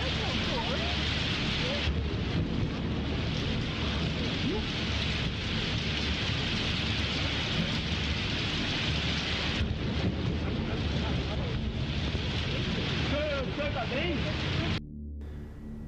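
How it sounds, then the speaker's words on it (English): Steady heavy rain and gusting wind roar through a thunderstorm, with occasional low rumbles and an abrupt cutoff near the end; no distinct lightning crack stands out. "He got struck by lightning."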